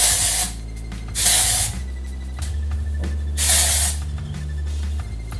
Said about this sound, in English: I would always use some dry shampoo before applying clip-ins to just give your hair that little bit of